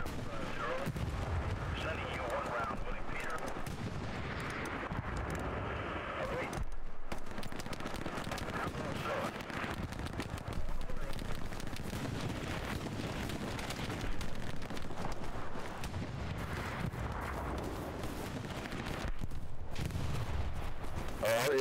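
Continuous World War II battle din from the game Hell Let Loose: rifle and machine-gun bursts mixed with heavy artillery booms and rumbling explosions, loud and dense throughout, with players talking over it.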